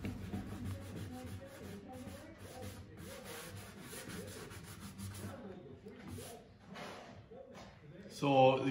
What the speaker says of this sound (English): I'm just wet sanding here and there to get some color to pop through the black